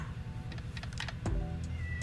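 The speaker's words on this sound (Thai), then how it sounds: "ได้ยินเสียงแมวไหมคะเสียงลูกชายร้องค่ะ" Several faint, brief meows from a pet cat sound at mid distance indoors over a steady low hum, with no talking.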